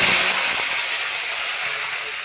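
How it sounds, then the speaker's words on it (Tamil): Curry leaves frying in hot oil give off a steady, bright hiss of sizzling that holds evenly for a couple of seconds, close and continuous with no talking. "நல்லா கருவேப்பிலை பொரிஞ்சிட்டோங்க"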